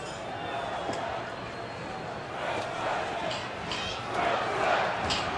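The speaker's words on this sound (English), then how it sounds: "And crowd chanting Wilson, Wilson." A football stadium crowd at a Seahawks at Broncos game in 2006 chants a player's name, a broad roar with rhythmic rising shouts and cheers building toward the end, heard over a commentator talking.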